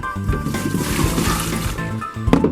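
Water sloshes and trickles as it is drained from a container of soaking microgreen seeds in a home garage farm. The pouring stays steady and close, with a short splash at the end.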